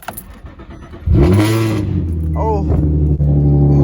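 An Infiniti G35 engine revving hard in first gear, rising to a loud sustained roar after a quieter idle, with a brief dip and pitch wobble midway; a man exclaims over it.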